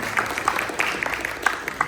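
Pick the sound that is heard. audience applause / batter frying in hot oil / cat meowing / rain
audience applause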